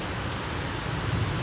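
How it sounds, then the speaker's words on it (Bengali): Heavy rain falling in a steady, dense wash of noise with no pauses and no voices. "ভালো বৃষ্টিটা হচ্ছে, একটু ঠান্ডা ঠান্ডা হয়ে গেল"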